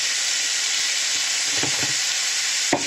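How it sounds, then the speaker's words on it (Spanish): Chopped onion and garlic fry in a pan, giving a steady close sizzle with a few soft scraping stirs near the end. "le vamos a agregar la cebolla y el ajo que hemos picado antes. Vamos a darle un poquito de movimiento. Que se fría un pelín"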